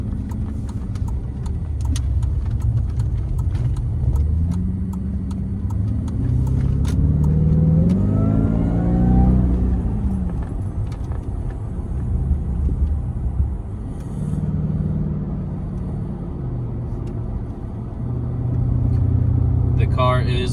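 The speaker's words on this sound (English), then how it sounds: "And then we'll enjoy how the Jaguar sounds." A 2003 Jaguar S-Type R engine drones from inside the cabin while driving, its pitch climbing through a rev rise before easing back to a steady rumble, with a voice talking over it.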